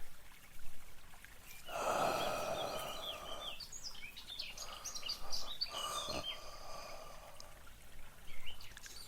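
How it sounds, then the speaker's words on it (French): Deep, raspy breaths drawn in and out slowly over a phone line, close and hoarse, almost human, over a faint background of chirping birds. "un souffle rauque, profond, presque humain"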